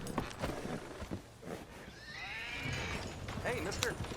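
Horse riding in Red Dead Redemption II: a horse whinnies and neighs over hoof clatter and movement noise, with a voice calling out to it.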